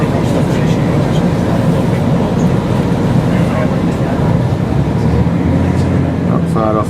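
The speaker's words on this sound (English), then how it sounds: "The Transpennine coming into the way." A TransPennine train rolls in on a line near Edge Hill, a loud continuous rumble with rail noise and faint squeals building toward the end, heard close on a walk with wind.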